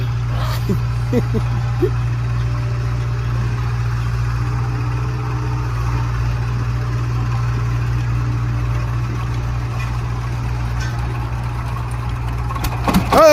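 A hand-started generator engine idling with a steady low drone and hum throughout, a few faint clanks early on and a sharper noise at the very end.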